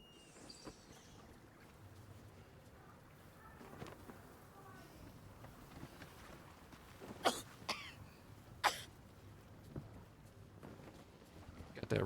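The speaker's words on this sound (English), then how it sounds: "Got that Raceland cough, lady." A character coughs a few times in the Baldur's Gate 3 video game, sharp bursts near the end over quiet ambient game sound, with talk nearby.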